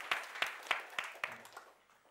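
At a Norwegian panel debate, a few people clap slowly in a sparse, evenly spaced rhythm of about six claps that fade out, close and fairly quiet.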